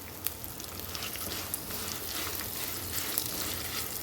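Curry leaves fry in hot oil for a pickle, giving a steady close sizzle with scattered crackling pops that carries on throughout without talk.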